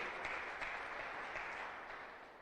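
Congregation at a church sermon applauding, a faint, steady wash of many hands clapping together, heard from a distance with no voices over it.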